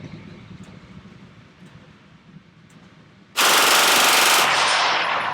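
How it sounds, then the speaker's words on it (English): Beretta MX4 Storm submachine gun emptying a magazine on full auto at a fast cyclic rate, one loud continuous close-range burst that erupts after a few seconds of quiet outdoor ambience and runs to the end. "It's got this blazing fast cyclical rate of 900 rounds per minute, and boy, does this thing crank. See how quickly we can dump a mag."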